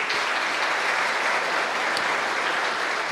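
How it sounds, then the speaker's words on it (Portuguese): Audience at a Bitcoin lecture in Brazil breaking into applause, a thick uniform wash of many people clapping at an even level throughout, with nobody speaking over it. "Uma salva de palmas."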